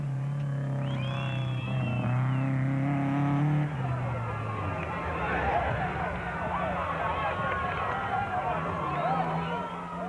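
A Castrol Toyota Hilux off-road race truck engine runs continuously under loud commentary, its pitch rising and falling as the truck works through rough terrain, with a steady wash of wind and road noise throughout.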